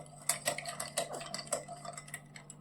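Metal spoon clinking and scraping against a glass of lime juice while stirring, in quick, irregular taps, close by, with a steady low hum underneath.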